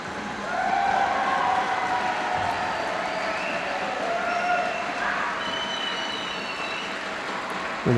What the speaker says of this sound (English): An appreciative home crowd as Catherine Unterwürzacher wins her opening contest.